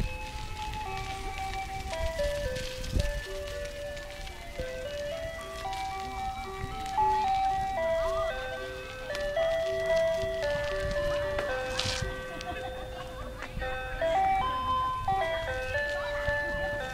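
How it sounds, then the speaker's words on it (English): An ice cream truck, a Mr. Treat Good Humor van, plays a tinkly electronic Happy Birthday jingle, the melody repeating steadily and moderately near over outdoor background noise. "It's playing Happy Birthday"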